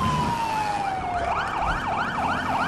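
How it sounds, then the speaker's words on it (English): A police car siren in the video game GTA 5 on a modded Peel P50 patrol car, a falling tone giving way to a rapid repeating wail, loud and continuous, close by. "Got to turn on my siren, man."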